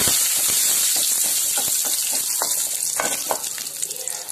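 Curry leaves crackle and sizzle in hot oil with garlic and fennel seeds, a loud, close, continuous hiss with a few brief spits and pops.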